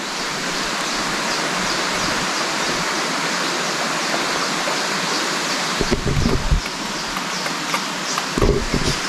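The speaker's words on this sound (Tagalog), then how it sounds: "ito pala yung tumutunog oh meron tubig dito" Steady rushing water flows continuously, like a forest stream nearby, with a few soft rustles and bumps over the constant wash.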